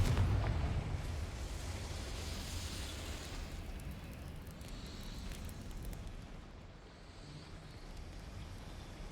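Confringo fire spell blast in Hogwarts Legacy, a loud rumbling burst at the start that trails off into a long, noisy fiery roar and crackle, with no talk.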